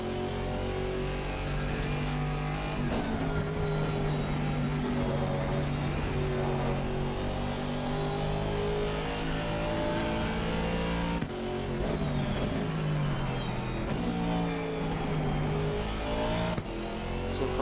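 An Aston Martin GT4 race car laps the Kyalami circuit in Assetto Corsa Competizione, engine loud and continuous as it revs up through the gears, drops on downshifts and climbs again, with no talk.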